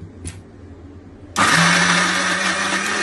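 A kitchen mixer grinder blending soaked green gram lentil batter for pesarattu switches on after a brief click and runs as a loud, steady whirring drone.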